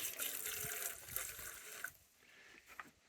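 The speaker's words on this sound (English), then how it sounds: "pour about a ½ an inch of Varsol into that" Varsol solvent is poured into a big pail, giving a faint, hissing, splashy liquid trickle that thins out and stops midway, followed by a few small drips and clinks nearby.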